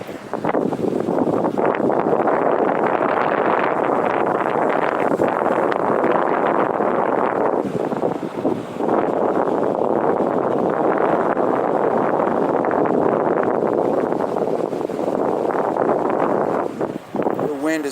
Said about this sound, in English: Wind is pretty high.